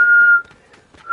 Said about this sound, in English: I'm whistling the song.